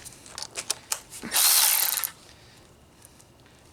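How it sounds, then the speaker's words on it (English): A power driver fitted with a 10mm socket whirs in one loud burst of about a second while removing headlight parts on a Malibu, with lighter clicks and ratcheting taps before and after. "I'm going to grab my driver here, put on my 10mm socket, and we're going to remove the"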